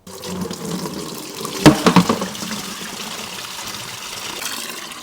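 Engine oil drains from a 1000-horsepower AWD Honda Civic being rebuilt, a steady liquid pour that runs throughout, with a few brief knocks near the middle.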